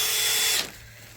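An 18-volt cordless drill with a mixing paddle stirring self-levelling floor compound, whining loudly at high speed for about half a second, then winding down and stopping, leaving a low background hum.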